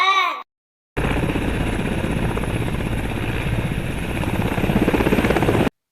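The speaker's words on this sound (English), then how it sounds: "H for helicopter." Helicopter sound effect for an alphabet phonics song, a steady loud rotor chop with fast rhythmic thumping that runs for about five seconds after a short sung phrase.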